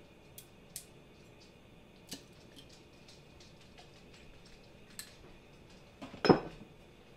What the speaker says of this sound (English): Give that a toss with the fork.